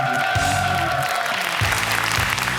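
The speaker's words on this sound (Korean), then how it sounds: "자, 큰 박수 부탁드리겠습니다." Studio audience applause on a Korean quiz show, a dense wash of clapping that fills the stretch along with music and some crowd noise.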